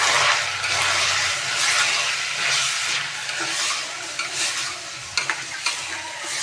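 A spoon stirring spiced Gujarati khichdi tadka with turmeric, chili, coriander-cumin powder and garam masala in a hot pan, giving a continuous close sizzle and scraping hiss with a few sharper clinks near the end.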